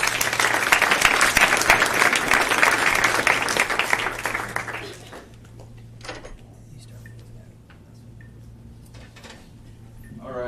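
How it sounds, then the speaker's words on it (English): An audience at a San Francisco customer success meetup claps for the panelists, dense applause for about five seconds that then cuts off, leaving a quiet room with a steady low hum and a few small knocks. "Round of applause for our panelists."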